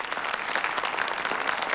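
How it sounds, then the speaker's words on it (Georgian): A studio audience claps for a guest's mother and father, a dense, even burst of many hands applauding together, brief and fairly loud. "ეს დედას და მამას განსაკუთრებული აპლოდისმენტები"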